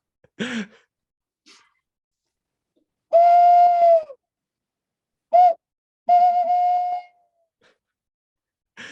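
A flute-like wind instrument blown to imitate an owl, giving a few separate breathy hoots, each a steady held tone, with silent gaps between them in a quiet room.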